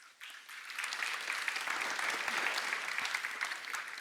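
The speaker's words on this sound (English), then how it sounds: "Somehow that applause even feels better because that one doesn't feel like it's for me." Sustained applause from a conference audience at a Compose Multiplatform tech talk, a dense steady patter of many hands clapping that rises quickly and holds evenly throughout, with no talking over it.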